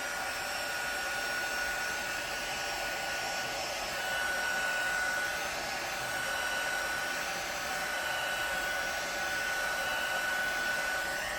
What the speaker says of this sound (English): the hair dryer or the heat gun or something that can just warm it up